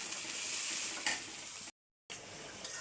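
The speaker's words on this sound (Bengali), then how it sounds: "আমি তেলের ভিতরে পেঁয়াজ মরিচগুলো দিয়ে দিলাম। এখন এগুলো লাল লাল করে একটু ভাজবো" Onions and chilies fry in hot oil in a pan, giving a steady, fairly close sizzle, broken by a brief cut to silence before the frying resumes.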